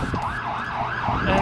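A police or ambulance siren wails in a repeating rising-and-falling cycle, moderately loud and a little distant, with faint road traffic underneath and no speech.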